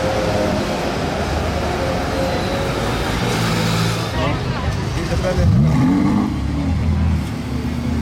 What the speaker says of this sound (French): elles ont démarré pratiquement à la même seconde. Le V8 et le V12.